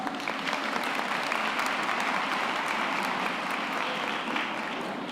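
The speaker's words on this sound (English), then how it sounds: "Can I hear that cough CQ applause?" An audience at a university graduation ceremony gives sustained applause for the guest speaker. The clapping is dense and even, filling the hall from start to finish at a moderate level, with no talking over it.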